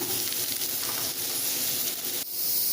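Hot oil sizzles steadily as a tempering for black chickpea sundal with ridge gourd finishes in the pan, a dense close hiss that dips briefly near the end and then swells back.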